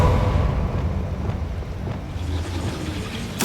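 Confringo, a fire spell in Hogwarts Legacy, gives a steady, loud, roaring whoosh with a low rumble, easing slightly over a few seconds before a sharp bright burst at the very end.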